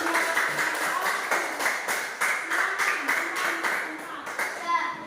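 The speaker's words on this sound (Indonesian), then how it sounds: "kita tepuk tangan" An audience claps together after a classroom presentation at an Indonesian teacher-training session, with dense, steady clapping across the whole stretch and a few voices faintly underneath.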